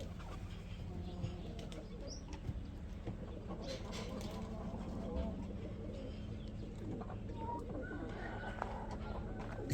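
Pigeons cooing and fluttering outdoors amid steady background noise, with faint voices nearby.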